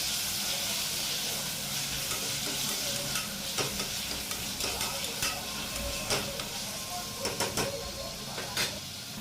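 Vegetables with mint, coriander and curry leaves sautéing in a pan for vegetable rice: a steady close sizzle and hiss, with scattered scraping stirs and taps of the spoon, no talking.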